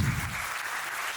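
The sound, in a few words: audience applause at school event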